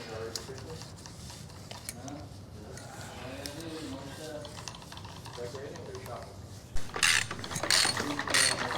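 A wrench threads the right-hand-thread non-drive side bottom bracket cup into a Lynskey Helix Pro titanium frame, with repeated metallic ratchet clicks that grow louder and sharper near the end, alongside a voice.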